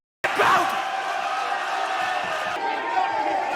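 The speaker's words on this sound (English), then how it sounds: "The noise of this crowd is monumental." A loud, roaring arena crowd at a Cage Warriors MMA title fight holds a steady, dense wall of noise, with cheering and a few swells rising above the din throughout.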